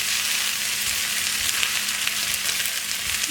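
Fried rice with pork frying in a pan gives a steady, close sizzle that holds unbroken throughout with no talking.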